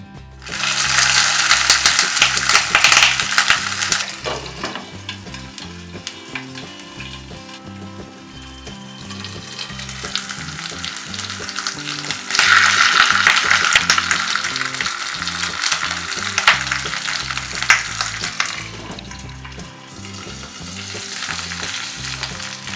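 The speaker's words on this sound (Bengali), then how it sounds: "এখন আমি এক এক করে চিকেন পাতুরিগুলো তেলের মধ্যে সেঁকে নেব" Chicken paturi wrapped in banana leaves fries in hot mustard oil, giving a loud, close sizzle that swells and eases as pieces are turned, with occasional metallic clinks.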